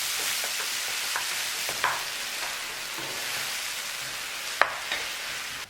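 Brinjal (eggplant) pieces fry in hot oil in a pan for a Malayalam-style baingan bharta, with a steady close sizzle broken by occasional scrapes and knocks of a spoon stirring, and no voices.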